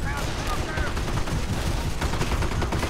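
Rapid machine gun fire rattles loudly and continuously in Company of Heroes, a dense stream of gunfire with overlapping bursts and battlefield noise throughout.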